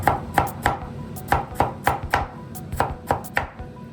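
Knife finely chopping fresh ginger on a board for a Punjabi chole bhature dish, a steady run of sharp, close, evenly spaced chops, about three per second, with no voices.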